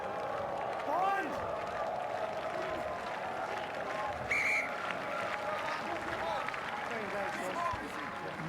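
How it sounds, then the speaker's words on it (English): A rugby stadium crowd at a Super Rugby 2016 match between the Sunwolves and the Jaguares applauds and cheers in a sustained, distant roar with a brief whistle and swells of clapping, while a commentator speaks over it. "this Sunwolves crowd really appreciative of the effort put in by their players and making a lot of noise"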